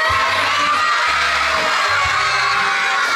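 Loud crowd of children shouting rather than singing at a magic balloon show, a dense, sustained roar of young voices that swells in bursts.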